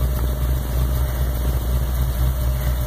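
A hot rod engine idles on its first start in five years, a steady deep rumble with a throbbing low pulse that stays even throughout, close and loud, with no voices.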